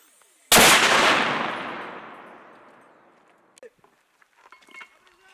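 A single loud rifle shot at an army squad competition, sharp crack followed by a long echoing decay over several seconds, then faint distant voices and small knocks.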